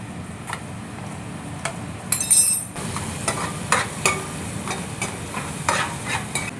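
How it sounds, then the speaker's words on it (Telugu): Half a spoon of mustard seeds fries in hot oil for a Godavari-style fish curry, a continuous close sizzle broken by sharp pops and clicking spatters, with a brief louder burst partway through. "కొద్దిగా ఒక 1/2 స్పూన్ ఆవాలు కూడా వేస్తాం"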